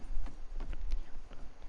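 Horse hooves clip-clop in a video game, a quick run of close, fairly loud hoofbeats under a low background rumble with no talking.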